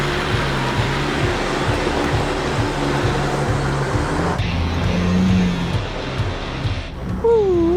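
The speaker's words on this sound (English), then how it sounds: "With the winch away, Sean can take a drive to the top." A 4WD vehicle drives up a hill after being winched, its engine a steady, close, loud rumble that eases off partway through.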